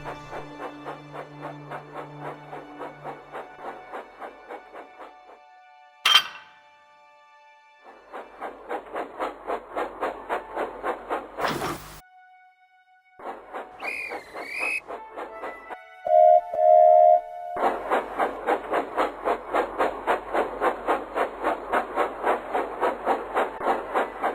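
A steam train hauling ballast trucks chuffs along in steady rhythmic puffs, punctuated by a sharp clank, a hiss and a whistle before the chugging resumes.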